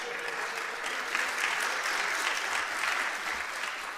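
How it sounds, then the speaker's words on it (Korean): A church congregation breaks into loud, sustained applause, a dense wash of clapping filling the sanctuary for several seconds. "이럴 때는 크게 박수 한번 하셔야 돼요."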